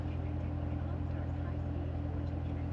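A 2018 Corvette Z06 3LZ convertible's V8 idles steadily in sport mode, a deep, even rumble with a constant low hum throughout, close and moderately loud.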